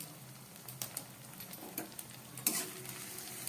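Spiced taro (gathi kochu) curry fries in a pan, a soft, quiet sizzle broken by several short scraping stirs and one sharper clink.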